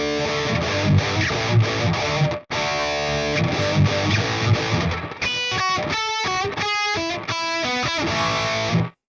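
Distorted electric guitar plays a chorus riff, loud and close: sustained chords for the first couple of seconds, a short break, then a run of choppy, stop-start picked notes with gaps between them.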